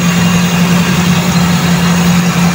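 A Toyota 4AF carbureted engine idles steadily with a constant hum while its throttle positioner RPM is being adjusted, loud and close with no talk.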